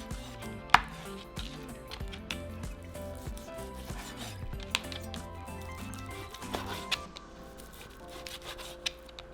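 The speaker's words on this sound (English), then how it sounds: "for our bacon, we're just going to slice them as well" Knife slicing bacon on a board, quiet repeated cutting and rubbing strokes with occasional sharp taps of the blade, close and steady.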